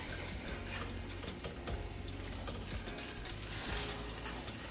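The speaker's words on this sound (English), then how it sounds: "Now let's put this big daddy in here and get a good sear." A beef roast sears in olive oil in a hot pan over medium-high heat, giving a steady, close, broadband sizzle that runs unbroken throughout with faint stirring or scraping underneath and no talk.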